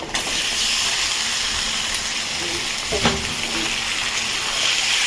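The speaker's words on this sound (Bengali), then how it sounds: "চিকেনটাও ভেজে নেব তেলের সাথে" Chicken fries in hot oil in a pan with a loud, steady close-up sizzle and hiss throughout, broken once by a faint clink of a utensil.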